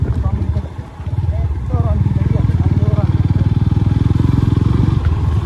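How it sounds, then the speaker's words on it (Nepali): A motorcycle engine chugs with a rapid, even low thump on an off-road jungle ride, loud and close, briefly dipping before settling into a steady rhythm while someone talks over it. "साउन्ड चाहिँ मिठो छ जे होस् हाम्रो बाइकको पनि"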